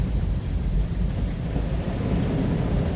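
A big van pushes through deep floodwater on a Kingston road during heavy rain, giving a steady, loud broadband wash and rumble of water and spray that runs continuously throughout, with no voices.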